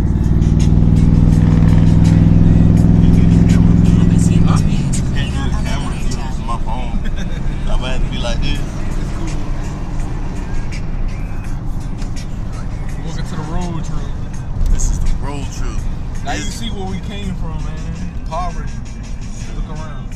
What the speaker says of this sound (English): We are driving out here today